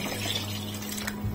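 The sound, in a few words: water being poured into a pot of fish pepper soup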